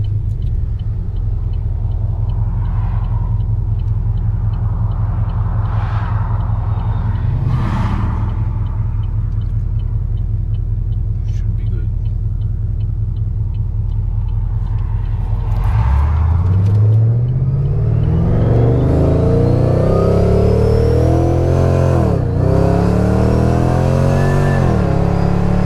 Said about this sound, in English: The supercharger with that cog drive belt on it really makes it whine quite a bit more